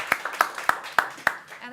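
Sparse, slow clapping from a small audience, about five distinct claps spaced evenly over a couple of seconds, fairly close and moderate in volume.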